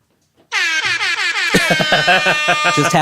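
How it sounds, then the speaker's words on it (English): Silence, then a loud blaring DJ air horn sound effect bursts in, followed by rapid repeated stuttering horn blasts, harsh and close. "this is the DJ air horn sound effect"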